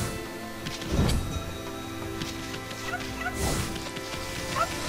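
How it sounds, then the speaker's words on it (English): In-game farm fowl in the video game Okami cluck and gobble in a few short bursts of squawks, close by, against a busy game soundscape with no talking. "Let's go feed the chickens."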